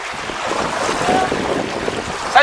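Strong wind buffets the microphone and waves slosh nearby during feeder fishing for roach on open water, a constant loud rushing roar with a brief faint voice near the end.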